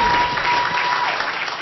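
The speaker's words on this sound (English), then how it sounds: "Now let's give them a round of applause," Sustained audience applause at a civil rights event honoring movement elders, a dense, steady wash of clapping hands filling the room for the full stretch with no pause.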